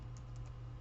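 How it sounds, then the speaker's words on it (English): A few soft keystrokes on a computer keyboard, about three faint taps in under a second over a steady low hum, with no voices. "I'm going to go ahead and type out index column, COL."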